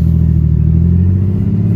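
A steady, loud car engine runs at a low, even idle-like drone with a faint clatter, close by and without talk.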